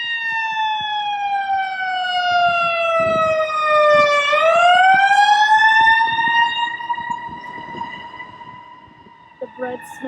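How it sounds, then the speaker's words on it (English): An ambulance siren passes along a street in Whitefish Bay, a loud wailing tone that drops in pitch as it goes by, then fades into the distance with traffic and faint sounds behind it. "Oh, here comes an ambulance."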